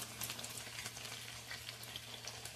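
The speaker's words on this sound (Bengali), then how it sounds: "পকোড়াগুলো লাল লাল করে ভেজে নিয়েছি" Chicken pakoras deep fry in oil for dry chilli chicken, giving a soft, even sizzle with light crackling pops, faint and steady throughout, and no one speaking.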